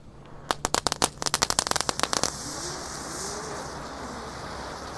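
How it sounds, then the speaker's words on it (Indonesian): A rapid string of sharp, loud crackling pops from a three-colour Gangsing Super spinning ground firecracker set off at night, then a steady hiss fading out with faint whistling. "Lanjut di sini ada mercon Gangsing Super 3 warna. Kita nyalakan 1 pak bosku"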